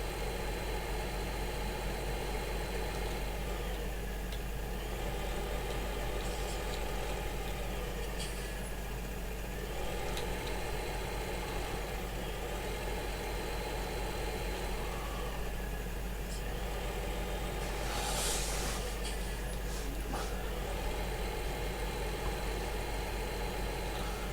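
A tractor engine idles in Farming Simulator 2015, a steady mid-pitched drone with faint vibration that runs unbroken for about twenty-four seconds at a low, even level, with no talk.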